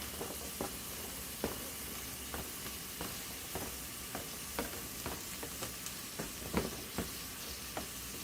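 Carrots, onions and other vegetables cook in a pot for Jamaican escovitch salmon, giving a steady, dense sizzle with regular light taps and scrapes of stirring at close range.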